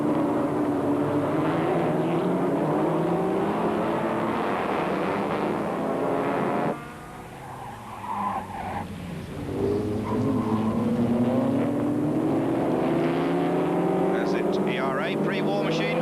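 A pre-war Talbot Largo racing car roars past on the Montlhéry circuit at a 1991 historic race meeting, its engine a loud, sustained drone that dips briefly before surging again, with a commentator talking over it throughout.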